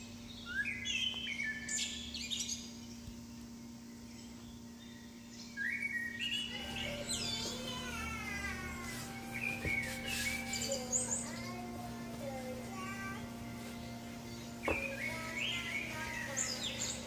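A pet bird chirps and whistles in a kitchen, with bursts of varied tweets and trills over several seconds, moderately near, against a steady low hum.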